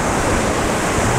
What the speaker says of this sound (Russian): Уж очень сильные волны.